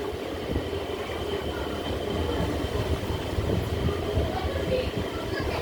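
A local train runs from Krishnanagar toward Amghata halt, its carriage rumble and track clatter steady and loud from start to finish with no break.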